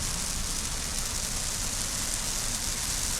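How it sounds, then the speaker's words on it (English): Rain falls outdoors at a creek campsite in the evening, making a dense, steady hiss of drops on surfaces. The sound is close and even throughout, with no voices. "it just started raining not too long ago"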